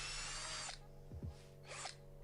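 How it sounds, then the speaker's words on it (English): Ferrex 14.4V cordless hammer drill drilling wood with an 8mm wood bit, two loud bursts of high motor whine separated by a pause in which the spinning winds down, heard close and alone. "I then went up to an 8mm wood bit, and again it had no problem drilling the hole."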